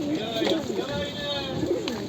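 Pigeons at Edirnekapı bird market in Istanbul coo softly and repeatedly nearby, their throaty warbling rising and falling over a low background hum.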